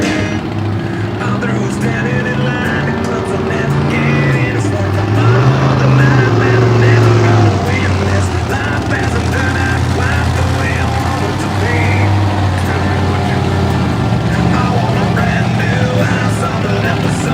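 A monster truck engine roars loud and sustained at a wheelie competition during a 2009 evening show in Markham, with pitch swells as the throttle rises, while an announcer talks over the crowd.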